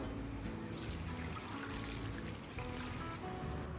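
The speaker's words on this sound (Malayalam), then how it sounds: "എന്തായാലും വെള്ളമൊക്കെ ഒഴിച്ച് മഞ്ഞൾപ്പൊടിയും ഉപ്പൊക്കെ ഇട്ടിട്ട് ചക്ക അവിടെ വേവിക്കാൻ വേണ്ടിയിട്ട് വെക്കട്ടെ" Water poured into a cooking pot for boiling jackfruit with turmeric and salt, a steady trickling pour running throughout alongside low background hum, close and fairly quiet.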